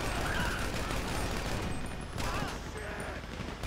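Enemy gunfire in GTA V rattles in a dense, continuous volley across the whole moment, loud and steady with brief surges, under a busy game soundscape.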